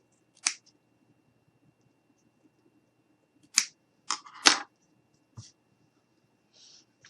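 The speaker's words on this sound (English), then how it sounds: "I am going to take my scissors and I'm just going to cut a bit of that off." Scissors snip the beard material of a fall craft gnome, giving a handful of crisp, close cuts at irregular intervals in an otherwise silent room.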